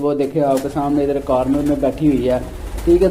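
Pigeons cooing inside an indoor loft, soft repeated coos mixed under someone talking close by throughout.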